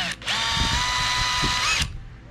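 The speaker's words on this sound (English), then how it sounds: "We're going to try to drill a hole right through the middle" An electric drill whines steadily for about a second and a half, close and loud, bracketed by brief bursts at start and stop.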